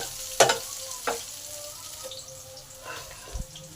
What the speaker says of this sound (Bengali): এখানে আদা, জিরে আর ধনে একসঙ্গে বাটা আছে, এই বাটা মশলা দিয়ে দিলাম।